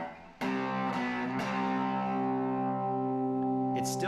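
An electric guitar through a fuzz pedal with the guitar's volume knob rolled down, giving a few strummed chords that ring out and sustain at moderate level with cleaner, reduced distortion.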